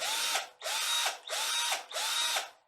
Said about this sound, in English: But the biggest thing that I use this little light, tiny drill for is just doing screws.